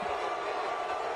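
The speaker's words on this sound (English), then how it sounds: "They're booing." A motor racing crowd booing a NASCAR driver at the start-finish line, a dense, steady roar of many voices sustained for about a second with no pauses.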